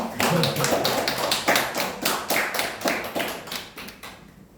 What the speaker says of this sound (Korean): 이렇게 박수 받는군요